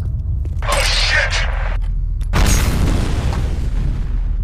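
Grenade explosions in the shooter game F.E.A.R., two loud booming blasts about two seconds apart with rumbling debris trailing after each, heard up close amid game noise.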